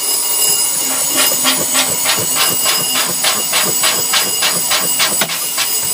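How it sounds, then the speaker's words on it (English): A truck's air brake pedal is pumped over and over, releasing a steady run of sharp, hissy air bursts at a regular rhythm, close and loud above a constant mechanical background. "Sir, I'm going to start pumping the brake."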